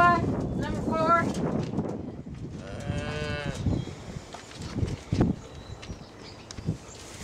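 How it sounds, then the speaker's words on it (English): Cattle moo near a farm field with a calf present, two or three drawn-out calls between spoken words, over wind buffeting the microphone. "Look at the moo cow."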